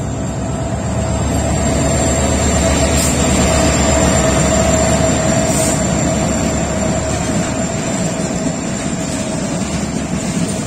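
Bangladesh Railway's Chattala Express running with locomotive 3023 and Chinese-built coaches. A loud, close, continuous rumble of engine and wheels carries on without a break, with no voices over it.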